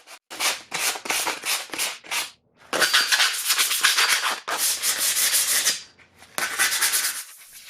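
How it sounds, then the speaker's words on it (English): Car hood hinges from a 2004 Infiniti G35X being hand-sanded with 180 grit sandpaper: repeated close, raspy scrubbing strokes in short bursts, then longer steady rubbing passes, with no voices. "I sanded them with 180 grit sandpaper"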